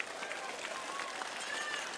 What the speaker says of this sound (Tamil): ஒரு கைத்தட்டு பண்ணுங்க